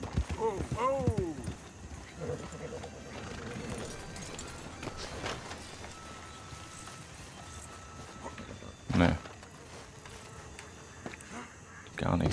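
Horse hooves clip-clop during a ride toward a coach in Red Dead Redemption 2, a faint steady patter under game ambience and buzzing insects, with someone talking over it.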